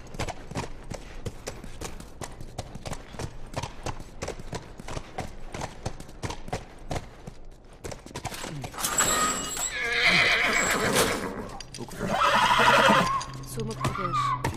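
A horse in the video game The Last of Us clops along with steady, close hoofbeats, then gives loud, drawn-out neighs and whinnies near the end.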